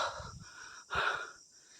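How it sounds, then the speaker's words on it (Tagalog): Heavy panting after running, close and loud, with rough wheezing breaths in two main bursts separated by short pauses, heard alone. "hinihingal talaga ako sa kakatakbo"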